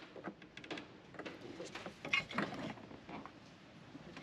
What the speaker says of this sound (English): power reel. It's auto retracting.